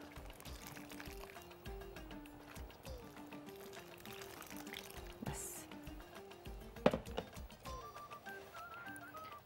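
Water pours steadily into a pot of red lentil soup with light splashing and dripping, fairly close, alongside faint kitchen clatter and a brief clank.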